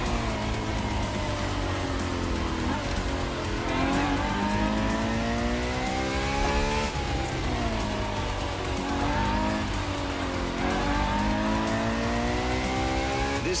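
A Ferrari FXX K supercar engine in the racing game The Crew Motorfest roars continuously and loudly, rising and falling through gear changes with repeated revving sweeps and occasional tire squeal, with no talking.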